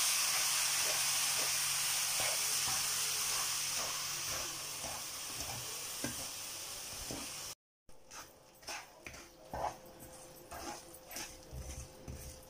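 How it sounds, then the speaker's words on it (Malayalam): A cup of milk poured into a hot pan of coconut burfi on a medium flame sets off a loud, steady hiss and sizzle that gradually settles, then gives way to scattered scraping and stirring clatter. "ഇതിലേക്ക് എടുത്തു വെച്ചിരിക്കുന്ന ഒരു കപ്പ് പാല് ചേർത്ത് കൊടുക്കാം"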